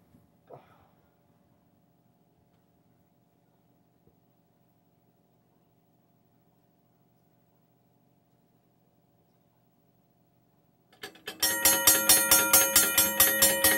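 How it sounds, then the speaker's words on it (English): A 2003 second-generation Safetran mechanical railroad crossing bell starts after a long near-silent stretch with a faint hum, then rings loudly and steadily in a fast, even series of close metallic strikes. "I'm going to set my second gen Safetran mechanical bell off."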